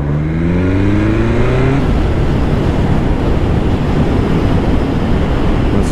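BMW S1000R motorcycle riding off, its engine revving up in rising gear pulls for the first two seconds, then a loud steady roar of wind and engine noise as it rides on.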